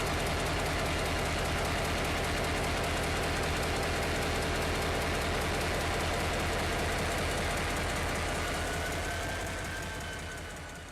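An EMD 16-645 diesel engine powering an SD40 locomotive runs steadily, a loud, even mechanical roar with a throbbing pulse that holds throughout and eases slightly at the very end, with no voices.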